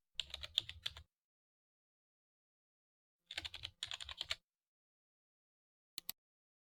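Bursts of fast computer keyboard typing, close and clear, as column headings and labels are entered: two runs of rapid clicks separated by silence, then a single final double tap.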